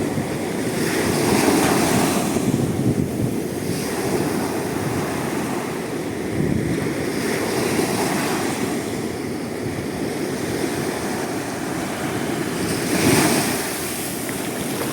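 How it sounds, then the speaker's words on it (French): Ocean waves breaking on a beach, a continuous wash of surf with swells rising every few seconds, mixed with wind noise buffeting close by. "Là-bas, il y a une vague énorme qui se forme"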